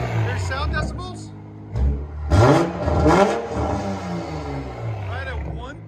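A 2020 Toyota Supra GR with a 3.0L turbo inline-six and Tomei Expreme exhaust revs in loud bursts near the middle of the clip, with someone talking over much of it.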